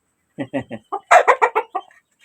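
Layer hens kept alongside a few native country chickens cluck in a quick run of close, distinct calls that grows busier midway, then trails off into quiet.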